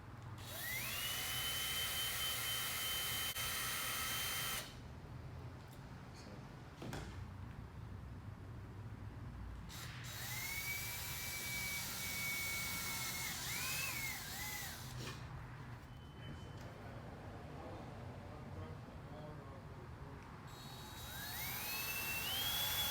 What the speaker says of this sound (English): then we'll mark our holes, drill them accordingly